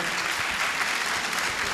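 A large audience at a Jain religious gathering applauds the moderator with continuous, dense clapping that fills the hall evenly and stays loud throughout the short stretch.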